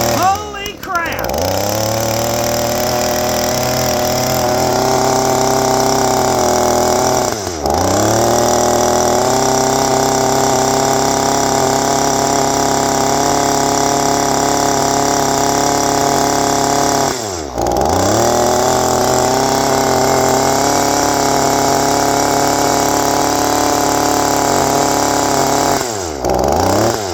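A long-buried, freshly resurrected old engine runs loud and close, revving rough and uneven because it won't settle into an idle. It dips sharply three times but keeps going, with a voice talking over it.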